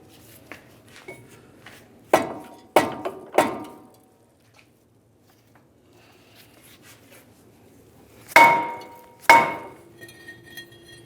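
A hammer strikes the back of a front wheel hub on a 2015-2019 Hyundai Sonata during a wheel bearing replacement: three sharp metallic blows in quick succession, a pause, then two louder ringing hits, with no talk.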